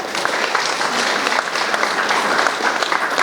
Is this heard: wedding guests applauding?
yes